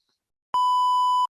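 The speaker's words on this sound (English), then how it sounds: "It looks like the fire alarm is going off in here now." A fire alarm sounds as a single loud, steady electronic beep lasting under a second, starting and stopping abruptly in an otherwise silent room.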